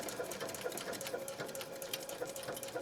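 A Janome 3160 QDC sewing machine stitching through tricky material, with a fast, even rapid-fire clatter of the needle running steadily and fairly close, uninterrupted by talk.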